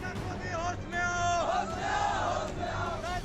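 A crowd of rioters shouts and yells at Lakhisarai railway station, a dense, sustained roar of raised voices with rising cries, loud and close throughout.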